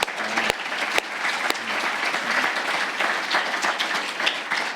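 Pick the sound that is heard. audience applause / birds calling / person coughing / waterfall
audience applause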